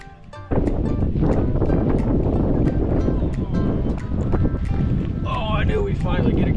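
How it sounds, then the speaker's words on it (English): Strong wind buffets the microphone outdoors at night during crappie fishing, with light rain falling, a loud continuous rough rush that barely lets up. "That wind is blowing and I'm getting bits of rain put on me."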